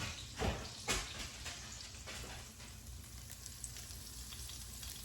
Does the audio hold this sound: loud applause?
no